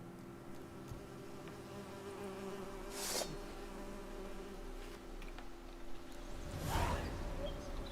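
Bees buzz in The Witcher 3 video game, a steady close insect drone with brief swooshing passes around it, heard alone over a quiet outdoor ambience.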